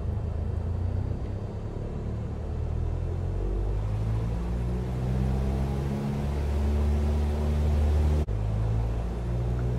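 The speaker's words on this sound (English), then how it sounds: "To level off, add power back to the appropriate cruise RPM setting." A light aircraft engine drones steadily in the cabin during a descent, its low rumbling tones rising in pitch as power is brought back up to cruise RPM, close and continuous.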